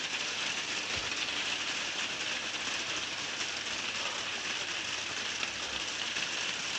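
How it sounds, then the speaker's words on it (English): Rain patters on rooftops at Westcliff during a storm, a steady broadband hiss with faint clicking texture, continuous and even, with no talking. "Pitter pattering on the rooftops."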